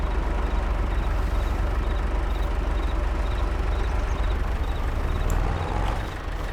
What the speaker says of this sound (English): Not a bad tractor.